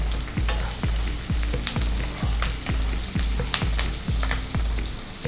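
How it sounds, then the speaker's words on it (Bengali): Onion frying in a pan for chicken pish pash, a steady loud sizzle broken by regular scraping strokes of stirring, close up with no talking. "পেঁয়াজটা নাড়িয়ে চাড়িয়ে ভেজে নিচ্ছি।"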